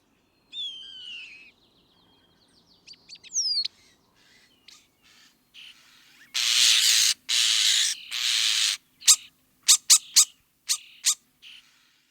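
A common starling sings a varied, rambling mimicking song of whistles, chirps and harsh noisy bursts, ending in a quick series of sharp clicks, close and fairly loud.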